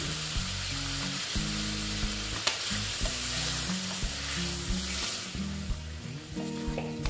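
Sliced bitter gourd cooks in a pan with added water, giving a steady close sizzle and bubbling broken by repeated stirring and scraping strokes, with no voices.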